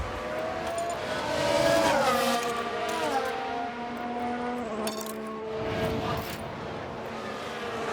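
F1 race cars overtaking in F1 Manager 23 at Jeddah, with high-pitched engine whines rising and falling as cars pass close by, their tones sweeping and overlapping over a steady background rumble.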